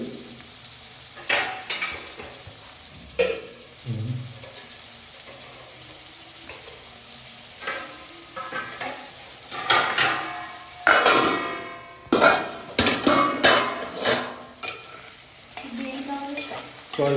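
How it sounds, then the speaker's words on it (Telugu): Vegetables cooking in a pan with scattered stirring scrapes, clatters of utensils against cookware and a soft sizzle, followed by a lid being set down on the pan, with intermittent bursts over a faint background. "మూత పెట్టేసుకుందాం మంచిగా మగ్గుతాయి"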